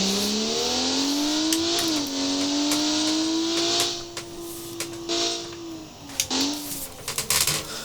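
A Crown Model 8 car engine drones steadily while driving in the BeamNG video game, its pitch rising and dipping with throttle and gear changes, with brief clicks and bumps over the engine note.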